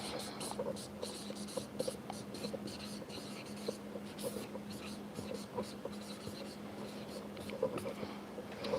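Pen or chalk writing out a flow chart during a geography lesson on the earth's internal structure, steady scratchy strokes running throughout over a low constant hum, with soft breathy voice sounds at times.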